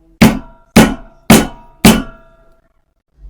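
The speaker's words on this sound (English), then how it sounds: "I have a Barry King Maul here. Just hit it." A Barry King maul strikes a large leather chisel punching through leather: four sharp, close, evenly spaced knocks, each fading quickly, then silence.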